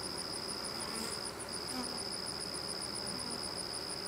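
Honeybees in an open hive being inspected: a continuous, faint, even buzzing hum of many bees close by, with a steady high whine running throughout and no speech.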